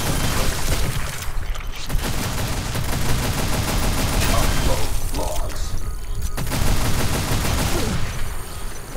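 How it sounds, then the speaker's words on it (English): Rapid gunfire bursts in the AFTE video game on Insane difficulty, a dense, loud crackle of shots and clattering mechanisms running nearly continuously, with brief shattering hits layered over steady game ambience. "he shot me without even aiming"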